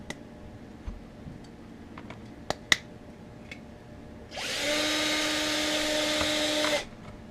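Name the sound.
drill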